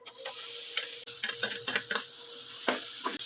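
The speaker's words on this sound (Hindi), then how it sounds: "गाजर को हमने इस तरह से घी के साथ अच्छे से फ्राई कर लेना है" Carrots frying in ghee sizzle steadily at close range for gajar ka halwa, with repeated scraping and stirring knocks of a utensil against the pan.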